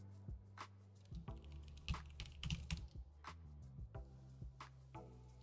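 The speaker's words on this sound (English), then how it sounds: "I'm typing out a long ass message." Fingers type on a computer keyboard in irregular bursts of sharp clicks and clacks, close and alone, with short pauses between runs of keystrokes.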